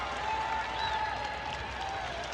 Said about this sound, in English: The crowd is starting to hear it.